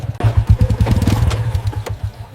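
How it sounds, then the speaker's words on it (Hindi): A motorcycle rides into a busy market, its engine puttering in a steady, close low rumble with uneven throttle pulses and some clatter, no talk over it. "कुछ ही देर में वही इंस्पेक्टर रंजीत चौहान मोटरसाइकिल पर बाजार में दाखिल हुआ।"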